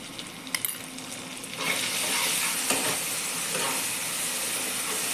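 Spices with Kashmiri chilli powder sauté with green jackfruit in a hot pan, a quiet scrape and stir giving way to a loud, steady sizzle that holds to the end, with no voices.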